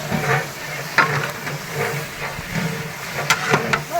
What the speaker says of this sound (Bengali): পেঁয়াজ বেরেস্তা করে নেওয়া হচ্ছে এই মাংস রান্না শুরু হয়ে গেছে